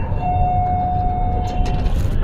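The Palembang LRT light rail train rolls with a steady low rumble and a thin, sustained electric whine that fades near the end, with faint rattles toward the close.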